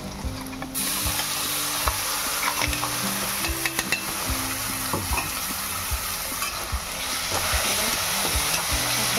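Ground masala paste and green chillies sauteing with softened onion in a pan for a ridge gourd dish, a steady close sizzle broken by repeated scraping stirs and spoon knocks against the pan, with no talking.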